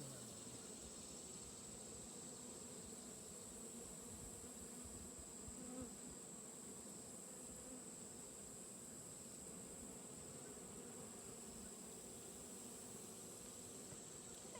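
Bees buzz steadily around a hive in the fall bloom season, a dense continuous hum with no pauses and no voices.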